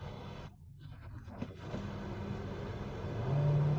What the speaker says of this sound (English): the internal combustion engine intervenes more and you really have more power at your disposal